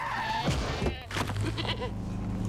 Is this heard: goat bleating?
yes